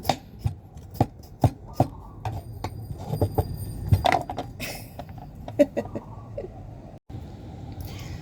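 A knife chops food on a board for a cooking meal, with a string of sharp, irregular thwacks close by, some stronger than others, over a low background rumble.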